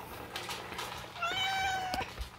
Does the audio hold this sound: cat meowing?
yes